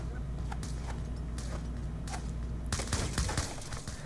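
Video game gunfire on the Nuketown map, with scattered shots early and then a denser burst of rapid firing near the end, heard over game ambience.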